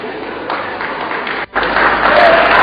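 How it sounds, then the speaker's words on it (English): Audience applause in a hall during a talk, a steady wash of clapping that dips briefly then swells louder toward the end. "I don't know whether you are clapping"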